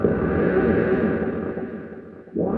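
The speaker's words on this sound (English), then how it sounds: "if I make the effect a long delay and set it all the way to maximum, it sounds like this" A theremin played through a long delay effect turned all the way up, giving a dense, continuous wash of smeared echoing tone that thins and fades near the end before swelling again.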